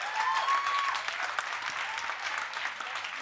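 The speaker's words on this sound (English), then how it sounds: "I really think they deserve a round of applause for that" A comedy roast audience claps in a steady, moderate round of applause, many hands together at a medium distance, with a brief faint whistle-like tone near the start.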